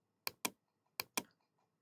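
A computer keyboard is typed on, four crisp close keystrokes in two quick pairs, alone in a quiet room.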